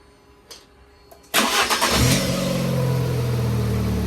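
A Fiat 500 engine, just back from timing belt and thermostat service, cranks briefly and catches, revving up loudly before settling into a steady close idle, with a faint exhaust blow.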